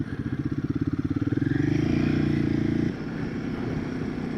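A Royal Enfield Himalayan 450 motorcycle being ridden: a close, throbbing engine pulse rising as it revs up, holding a steady drone, then dropping off sharply as the throttle closes.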